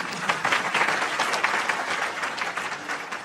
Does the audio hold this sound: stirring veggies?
no